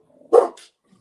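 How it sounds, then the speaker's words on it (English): A single short, close bark from a big dog, one sharp burst followed by a faint brief echo-like tail, otherwise quiet. "I know you got that big old dog over there."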